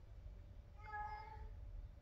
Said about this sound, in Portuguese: vê se vocês conseguem escutar esse som. Uma gata fêmea, ó, no cio.